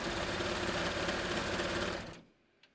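A serger stitches a 3-thread narrow seam finish on a top, running as a loud, fast, steady mechanical whir close by for about two seconds before stopping abruptly.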